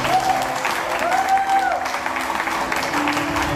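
A church crowd applauds and cheers together in praise of Jesus Christ during a French-language prophetic service, a steady, dense wash of clapping with voices mixed in throughout.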